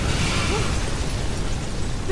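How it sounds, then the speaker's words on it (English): A big explosion in the video game Mirror's Edge Catalyst rumbles as a loud, sustained low boom with dense noisy debris, heard on its own without talk. "Big explosion over here."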